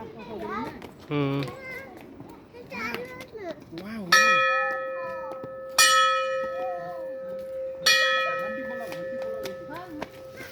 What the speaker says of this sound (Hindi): वाह घंटी